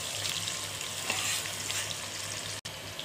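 Chopped arbi (taro root) frying with onions for an arbi chicken curry, a steady close sizzle filling the whole stretch, with a brief stir and a momentary cut near the end.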